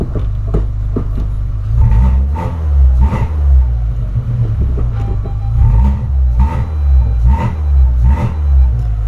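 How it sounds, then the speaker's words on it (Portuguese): A Volkswagen Polo with a sports exhaust revs repeatedly inside a garage, echoing, with deep exhaust rumble and sharp bursts of throttle rising and falling roughly every second or two. "E olha aqui de dentro, aqui acelerando na garagem"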